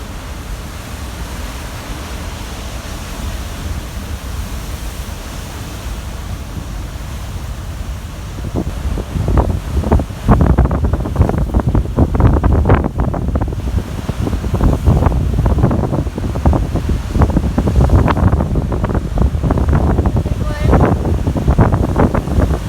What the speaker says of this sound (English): At Queen's Bath, the violence of the ocean was on full display.